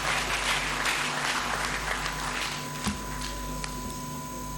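Audience applause welcoming a speaker to a talk on Laurent-Désiré Kabila and Patrice Lumumba, a moderate crowd clapping over a steady electrical hum, fading gradually with a few sharper knocks near the end.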